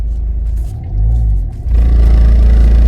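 A car drives steadily with a loud low engine rumble and road noise, and the drone swells as it picks up speed partway through.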